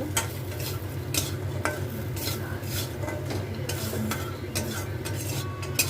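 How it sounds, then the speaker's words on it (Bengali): Lentil dumplings (bori) fry in leftover oil in a pan, a soft continuous sizzle broken by repeated scraping clicks of a utensil stirring against the metal, close and moderately quiet. "তো যেটুকু তেল আছে এই তেলের মধ্যে আমি বড়িগুলো ভেজে নেব।"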